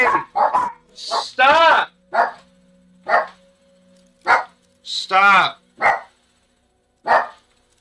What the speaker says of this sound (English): Damn dog's barking at everything.